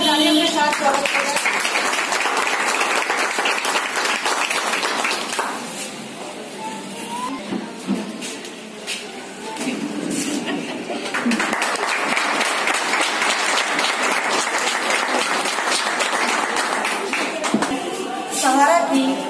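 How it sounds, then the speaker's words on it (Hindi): An audience claps at an award and honour ceremony for a Sahara India worker, sustained applause that fades briefly in the middle, then builds again and continues to the end. "तालियों के साथ स्वागत करें"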